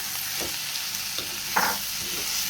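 Boiled bitter gourd stir frying with tomatoes in a pan, a constant close sizzle with a few scraping stirs and one louder splash of sizzling as food is moved around, no voices.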